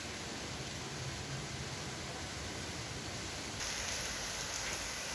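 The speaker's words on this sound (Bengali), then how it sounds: "আর মাঝে মধ্যেই জোরালো বাতাস এবং তার সঙ্গে বৃষ্টি" Rain falling outdoors on a stormy morning with strong gusts of wind, a dense, even rush of noise that swells slightly louder toward the end.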